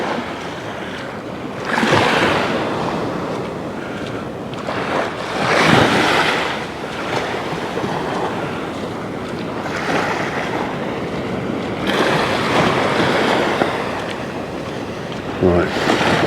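Surf washing ashore at Venus Beach in Paphos, with steady broadband rolling waves that swell and break in repeated surges, mixed with some wind noise on the microphone.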